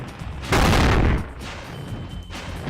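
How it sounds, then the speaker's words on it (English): Loud explosion in Spyro: Year of the Dragon, a sudden burst of crackling, rumbling noise that holds for under a second before dropping to a lower rumble, followed by a fainter second burst. "Such a loud explosion."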